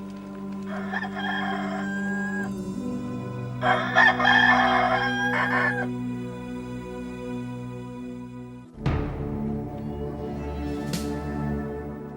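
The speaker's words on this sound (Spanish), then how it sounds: "Pedro, antes de que cante el gallo me negarás 3 veces." A rooster crows twice in loud, near, drawn-out calls, followed by a sharper burst of sound; no one speaks.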